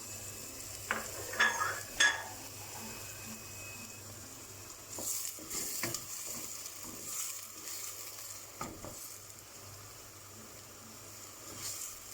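Red and green peppers dropped into a pan of softened, lightly pinkish onions, giving a faint, low sizzle with a few clinks and scrapes of a utensil against the pan early on, then a quieter steady fry.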